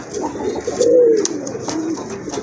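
A Red Rajgolla pigeon pair coos, giving one soft, rolling coo over steady low background rumble with no talking.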